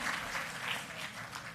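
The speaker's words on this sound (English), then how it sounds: "can we get a better round of applause than that for our moderators, please?" Applause from an audience at a Ministry of Finance and the Public Service awards event in Jamaica, a continuous dense patter of many hands filling the room throughout.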